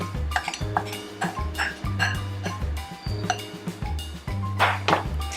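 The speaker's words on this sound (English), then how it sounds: "So what we're gonna do now is add our onions. We're gonna add our celery." Onions and celery being added to melted butter in a pan, with close clinks and knocks of cookware and utensils in an irregular series, no talking.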